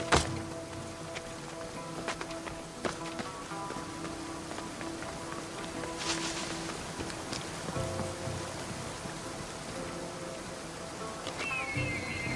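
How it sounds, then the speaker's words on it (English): A waterfall in Assassin's Creed Odyssey makes a steady, moderate rush of falling water, broken by scattered splashes, clicks and brief thuds. "This is the waterfall."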